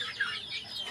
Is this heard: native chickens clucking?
yes